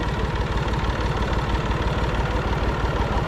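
A Massey Ferguson 245 tractor runs with an 8 ft flail mower attached, making a close, loud, steady low engine drone with a rough throbbing vibration.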